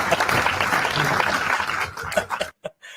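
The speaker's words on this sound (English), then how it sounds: "Few people here clapping away." A small audience applauding at a guitar talk event, a lively patter of clapping with a brief chuckle that fades out and ends abruptly, followed by a few last isolated claps.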